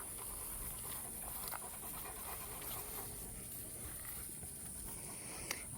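A young female dog, just over a year old, pants quickly and rhythmically close by. The breathing stays faint and steady throughout, with no talking.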